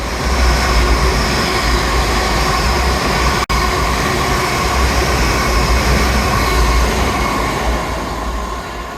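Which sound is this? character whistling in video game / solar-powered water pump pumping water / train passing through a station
train passing through a station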